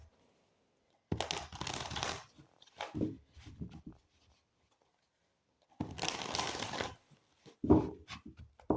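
Tarot cards are shuffled in two short bursts of riffling and flapping in a quiet room, each lasting about a second or two, with softer card handling in between.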